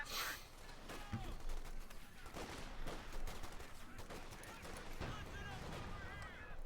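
Panther tank cannon and battlefield gunfire in Company of Heroes 2, set on the Eastern Front against Russians; scattered shots and bursts sound faint and distant beneath a commentator's continuous talk.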